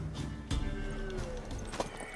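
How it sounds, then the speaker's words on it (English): A horse clip-clops and runs in The Witcher 3 video game, with a few hoof thuds and a brief whinny-like cry under a steady backdrop of game ambience. "Worthy of the best horse. The mare is yours."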